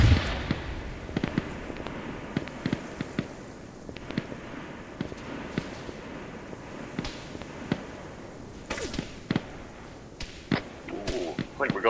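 Sharp, distant sniper rifle cracks echo across a snowy village battlefield in a military video game, scattered irregularly over a constant rumble of wind and ambient game noise.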